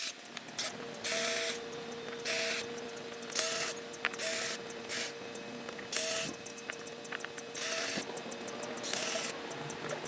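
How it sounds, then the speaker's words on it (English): A power drill backs screws out of wooden monkey bars, with repeated whirring bursts of a second or so each, separated by short pauses, fairly close and steady over a low background hum. "taking my drill and unscrewing all of the screws that are already in place in the monkey bar"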